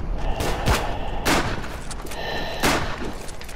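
Rifle shots ring out in the World War I trench shooter Verdun: three sharp, loud cracks spaced about a second apart, each with a short echoing tail, over a steady background din of battle.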